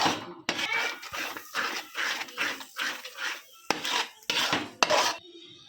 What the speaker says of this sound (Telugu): నెయ్యి వేసుకొని కలుపుకుంటున్నాం